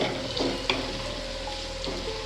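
Sabudana (tapioca pearls) frying in oil in a pan for sabudana khichdi: a steady, close sizzle with faint crackles and a few soft pops, with no talking.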